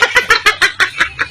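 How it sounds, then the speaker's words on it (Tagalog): A chicken clucks in a quick, steady series of about eight sharp calls, close and fairly loud, with no talking. "Manok yun."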